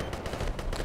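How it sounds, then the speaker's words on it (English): Gunfire in Battlefield: Bad Company 2 multiplayer, including a sniper rifle shot, with a rapid burst of cracks and reports packed into under a second, loud and close. "Oh, that sniper got me again."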